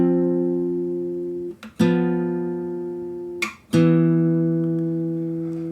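Three sustained rootless piano chords in a 2-5 progression, the upper-structure voicings ringing out slowly one after another, close and alone.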